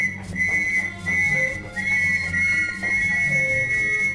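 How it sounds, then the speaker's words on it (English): A shrill police whistle is blown to raise the alarm, sounding as a loud, sustained tone broken into a few long blasts, heard alone without talk. "it was he that blew the whistle and raised the alarm"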